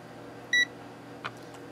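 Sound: Victor VC 921 multimeter beeping

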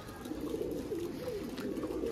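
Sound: pigeons cooing in a pigeon loft

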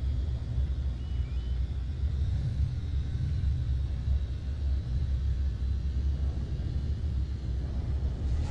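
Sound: storm rumbling in video game No Man's Sky

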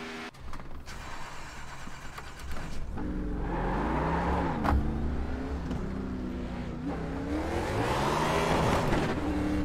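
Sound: racing car engines in a video game

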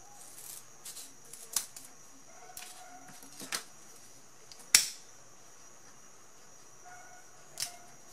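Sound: cutting paper strip with scissors

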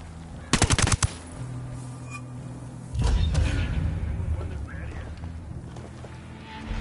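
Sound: submachine gun fire from a video game

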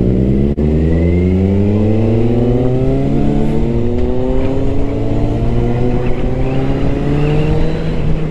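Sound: vehicle accelerating on a ride

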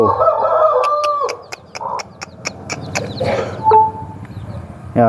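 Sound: hen and chicks clucking

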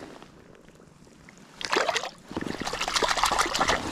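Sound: trout released back into river water

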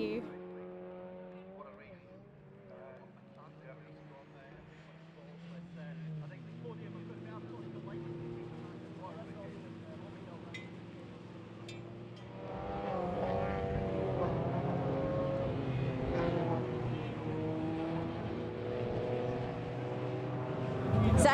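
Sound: Mini Cooper race cars lined up on the grid

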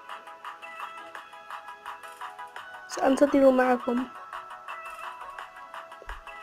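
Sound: alarm ringing

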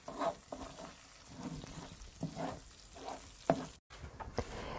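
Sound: frying and stirring dill in a pan

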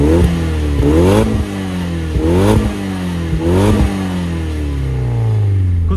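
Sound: Nissan Silvia S15 Spec-R engine revving, near-stock exhaust

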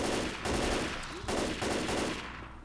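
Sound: gunfire in video game Left 4 Dead 2

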